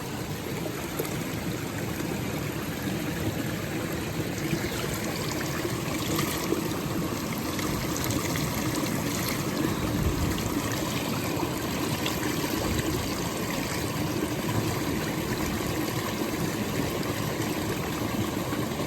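Water runs and splashes steadily while freshly caught mud crabs are washed clean in repeatedly changed water. The trickling sound is continuous and close, with no speech.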